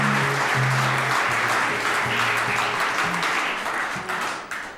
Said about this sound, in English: That applause was a bit too enthusiastic, I think.